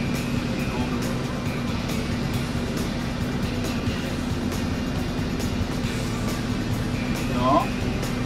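A tractor engine hums steadily while pulling a field sprayer loaded with about 620 liters at six kilometers per hour, a constant low drone with a faint tonal whine across the whole stretch.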